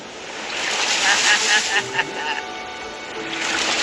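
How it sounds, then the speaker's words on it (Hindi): Large ocean waves roll in and crash near a rocky island shore, a continuous loud wash of surf with wind noise across the microphone and occasional muffled talk. "वो लहरें काफी बड़ी लग रही हैं और वो हमारी तरफ ही आ रही हैं।"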